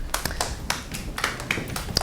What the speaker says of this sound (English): Please hold applause till the end of the forum